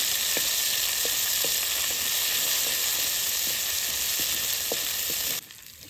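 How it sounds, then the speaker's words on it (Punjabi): Grated ginger and finely chopped green chillies fry lightly in a pan for potato patties, giving a loud, even sizzle with a few soft stirring taps, ending abruptly near the close, with no talk. "ਇਹਨਾਂ ਨੂੰ ਬਿਲਕੁਲ ਹਲਕਾ ਜਿਹਾ ਭੁੰਨ ਲਾਂਗੇ ਆਪਾਂ"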